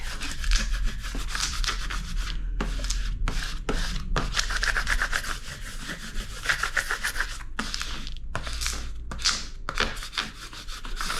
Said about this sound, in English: Go ahead and rub the back.